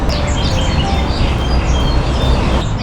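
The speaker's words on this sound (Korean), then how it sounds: "진짜 자연 새소리예요" Several birds chirp and twitter continuously outdoors in Hong Kong against a dense, noisy background hum.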